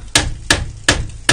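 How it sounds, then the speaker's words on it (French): Four sharp hammer blows strike the brake caliper piston of a Renault Megane Scenic 2 during a disc and pad change, evenly spaced, close and loud, with no talk. "Avec un marteau, je viens me glisser derrière."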